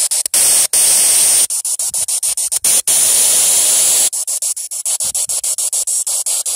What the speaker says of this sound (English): I'm going to turn the SV7 spirit box on.